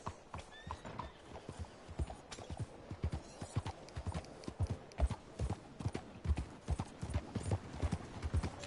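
Horse hooves clip-clop at a steady walking rhythm in Red Dead Redemption 2, with sharp repeated thuds close by and a brief neigh early on, quiet overall with no talking.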